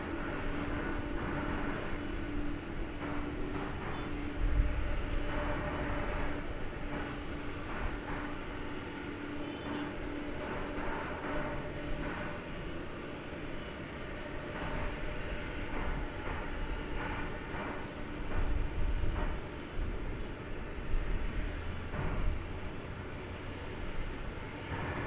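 A Boeing 747 jet airliner roars steadily at DFW Airport, a continuous loud engine rumble that swells slightly at moments.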